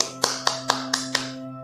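Five crisp claps land at an even pace and then stop, close and distinct over a steady electrical hum, far too few for the loud round of applause a church audience was asked for.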